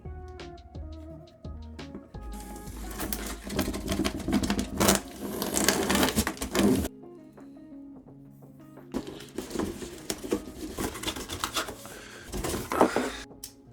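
Microphone kit packaging for a Deity VO-7U USB microphone being torn open up close: two long stretches of loud, scratchy ripping and crinkling, separated by a brief quieter pause.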